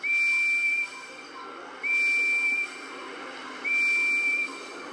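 A steam engine whistle from the Thomas & Friends video game Trouble On The Tracks gives three short, shrill toots at an even pace, each less than a second long. A steady hiss fills the gaps between them.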